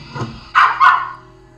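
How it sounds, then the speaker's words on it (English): A dog barks loudly and close by, two sharp barks in quick succession after a faint softer yip, then fading. "he's just barking his full head off"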